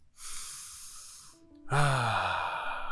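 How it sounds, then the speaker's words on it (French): A single deep breath taken during a guided meditation: a soft airy inhale, a short pause, then a longer, louder sighing exhale close to the mic. "je t'invite à prendre une bonne respiration."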